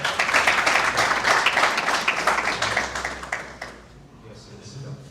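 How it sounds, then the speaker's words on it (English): Audience applause greets a university debate team from the University of Rwanda at a World Cancer Day celebration, a dense patter of clapping that thins and fades over the last second, with faint voices underneath. "A warm round of applause."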